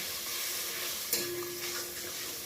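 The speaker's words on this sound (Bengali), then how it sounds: "সর্ষে পোস্তটা এখন একটু কষা হবে" Mustard and poppy seed paste with turmeric and salt sautés in a pan for a pabda fish dish, giving a soft, continuous sizzle with a brief scrape of stirring partway through.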